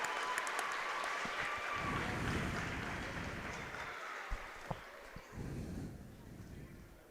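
A crowd in a gym applauds four seniors on wrestling senior night, with a swelling roar of distant clapping and cheering that fades gradually, broken by a few sharp louder claps.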